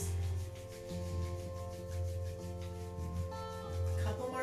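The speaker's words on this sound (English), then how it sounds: "Rubbing the palms together." Palms rubbed briskly together during a yoga hand-warming exercise, a soft, close, rhythmic swishing friction repeating steadily, faint against low background hum and tones.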